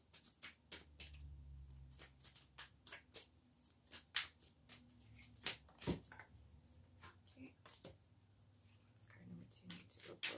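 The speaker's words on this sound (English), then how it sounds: "so bear with me as I shuffle." Tarot cards are shuffled by hand in a rapid, faint series of soft riffling taps and slaps that run steadily throughout, recorded close and quiet.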